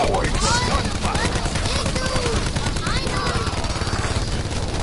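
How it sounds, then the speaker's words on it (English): Rapid gunfire from a PS4 first-person shooter, loud and dense bursts of shots and blasts running continuously, with a player talking over the game sounds. "Gunfire!"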